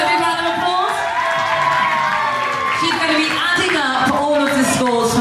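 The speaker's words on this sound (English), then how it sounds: "Can we give Charlotte a big round of applause" Crowd cheering and whooping with applause at an evening dance competition at a holiday park, loud and sustained throughout, with bright shouts and excited voices mixed in.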